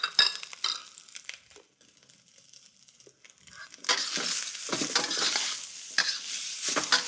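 Mushrooms, carrots, asparagus and egg sizzle in a frying pan as they are stirred, soft scraping and intermittent crackle at first, then a louder steady sizzle through the second half, fairly quiet overall.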